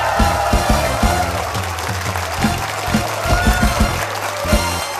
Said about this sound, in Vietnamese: Hãy cùng dành một tràng pháo tay thật to và chào đón khách mời của đêm nay